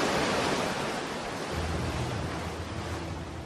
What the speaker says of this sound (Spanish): lo que sueles mirar son las olas rompiendo